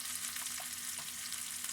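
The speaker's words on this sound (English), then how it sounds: "Let's give this guy a little stir" Turkey noodle soup stirred in a pot with a spatula, a soft continuous bubbling hiss with light scraping, quiet and close, no voices.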